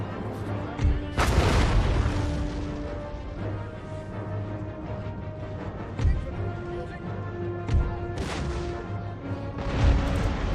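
Cannon fire booms from artillery on an Empire: Total War battlefield, several heavy blasts spaced a few seconds apart over a steady battle din and sustained horn-like tones, with a voice talking underneath.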